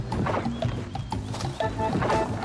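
Horse hooves clip-clop in a steady rhythm close by, with a faint whinny and some scraping mixed in.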